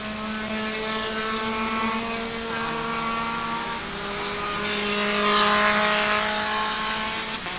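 Race cars easing around Sebring on a cool-down lap, steady engine drone with shifting pitch as several cars pass, loud and sustained, a brief whooshing surge near the end.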